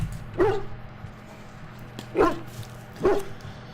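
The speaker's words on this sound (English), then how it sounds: "Bounces around, barking excitedly." A dog in the video game Dragon Age: Origins gives three short, excited barks spaced about a second apart, clear and close, with a low game hum beneath.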